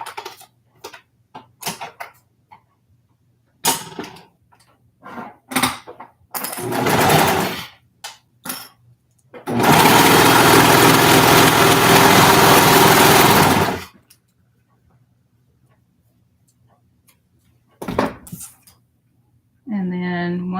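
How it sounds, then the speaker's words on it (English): A sewing machine stitches fabric for a roller derby bralette in one long, loud, steady run of about four seconds, with short stitching bursts and someone talking before and after. "And we're going to sew that."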